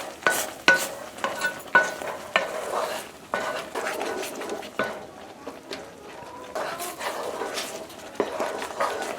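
Fudge thickening in a pot on a lowered stove is stirred with scraping strokes across the bottom, giving repeated close scrapes and soft clinks over a faint sizzle, with occasional talk.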